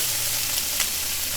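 Eggplant and konjac sear over high heat in a pan for a miso stir-fry, giving a steady, close sizzle with a faint stirring scrape and no voices.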